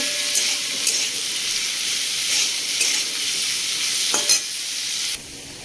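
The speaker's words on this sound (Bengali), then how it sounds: "টমেটোটা কুচিয়ে রেখেছিলাম সেটা দিয়ে দেবো। ভালো করে কষিয়ে নেব।" Chopped tomato sautés in a pan after ginger, producing a continuous close sizzle with stirring clatter that drops off sharply near the end, without speech.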